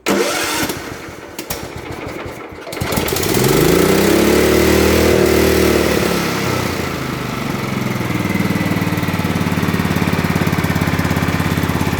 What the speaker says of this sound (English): Oh yeah, she's sounding a whole lot better, a whole lot quieter.